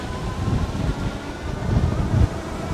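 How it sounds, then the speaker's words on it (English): Crosswind buffeting the microphone while riding an Engwe Engine Pro 2.0 ebike up a hill, a steady low rumbling whoosh with gusty surges and no talking. "We got a little bit of a crosswind coming up"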